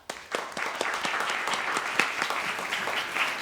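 A lecture-hall audience applauds to welcome Professor Bromwich, a steady, dense patter of many hands clapping throughout, fairly even in loudness with no voices over it.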